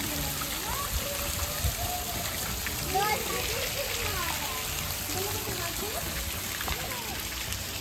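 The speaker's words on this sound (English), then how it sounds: "And there's a waterfall." A waterfall at the Ranchi aquarium gives a constant rushing, splashing wash of water under scattered voices and chatter from nearby visitors.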